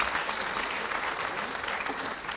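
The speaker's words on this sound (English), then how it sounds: "Let's give a loud round of applause to all our students" Sustained applause from a large crowd at the 2025 CAPE and CSEC results release, steady and dense clapping filling the whole moment without letting up.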